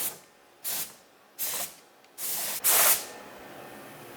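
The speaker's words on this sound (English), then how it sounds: "Now I'm just gonna test how it sprays." Four short bursts from a paint spray gun loaded with paint thinned 1:1 with medium thinner, test-sprayed during a BMW 335i restoration, each hiss about a third of a second long with brief gaps between, the last one loudest and brightest.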